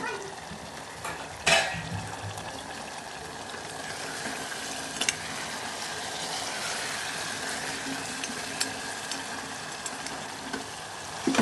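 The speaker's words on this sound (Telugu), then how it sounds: "ఒక 2 సార్లు కలిపేసి కొంచెం మూత పెట్టుకొని చికెన్ని బాగా కుక్ చేసుకుంటే" Chicken and tomatoes cook in a pot for Karnataka-style chicken biryani, with a soft, steady sizzle, occasional spoon scrapes and light clinks, fairly quiet and with no talking.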